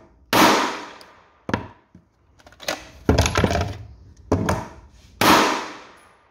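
Two Glock pistols being handled and checked safe, a series of sharp metallic clacks and snaps from slides and parts, about six distinct close hits spaced irregularly, with no talking.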